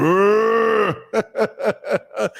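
A voice imitates a cow mooing: one long, drawn-out low moo, then a string of five short, grunting moo-like bursts in a steady rhythm, loud and close.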